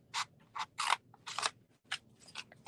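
Scissors snip through paper for an envelope box in about eight short, crisp cuts with brief gaps between them, close and quiet.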